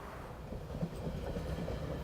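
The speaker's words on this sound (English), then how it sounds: "As the last express train heads into Toronto" An express train heading into Toronto rolls past as a steady, low rumble at moderate distance, with a faint rhythmic clatter of wheels and no voices.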